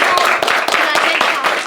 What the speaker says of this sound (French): s'il vous plaît, un tonnerre d'applaudissements pour Mousse